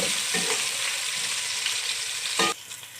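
Ginger garlic paste frying with golden brown onions in a pan, a steady close sizzle with a brief stirring scrape near the end.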